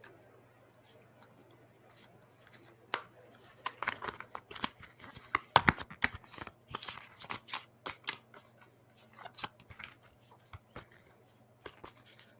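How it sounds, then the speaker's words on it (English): Soft papery riffling and quick flicks of playing cards being shuffled at a card game match, in irregular bursts close by, with no talking. "tell me when to stop shuffling the cards"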